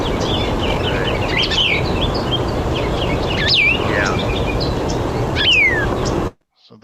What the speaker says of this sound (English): it sounds like one of the solitary vireos, which would be Cassins or Plumbeus